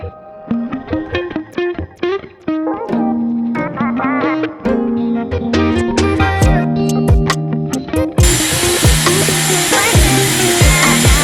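A Dyson AirWrap hot-air styler dries and styles hair. Its steady, loud rushing airflow starts late and carries to the end over background music.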